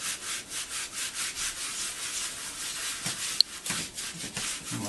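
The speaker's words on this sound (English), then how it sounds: "I'll scrub that smelly spot pretty good." Steady rubbing and scrubbing of a dog's wet fur during an oatmeal shampoo bath, a soft rhythmic swishing that repeats in even strokes at close range, with no talking.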